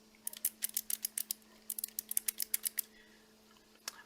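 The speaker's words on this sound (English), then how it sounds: "The joypad have clicky sounding buttons." Rapid clicky button presses on an IINE Neptune mechanical joypad for Nintendo Switch, a quick run of sharp, close keyboard-like clicks in two bursts, then a lone click after a pause, with a faint steady hum underneath.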